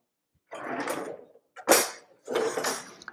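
A pepper grinder cracking pepper over cauliflower steaks, three separate bursts of gritty grinding with short pauses between them, close and clear.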